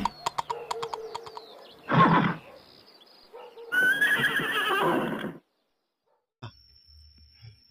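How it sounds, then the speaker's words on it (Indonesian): Horse neighing in loud, close whinnies, one short burst followed by a longer shaky call, with some light clicking and clattering before them and a brief quiet stretch after. "Wah, ini kuda."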